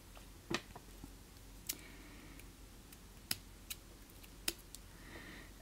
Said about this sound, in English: and then I'm going to go ahead and cut my threads.